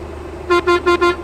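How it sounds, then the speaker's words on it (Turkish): Air horn of a Mercedes-Benz Tourismo bus in a driving simulation game, four short loud blasts in quick even succession over a low engine hum. "Bu da havalı korna."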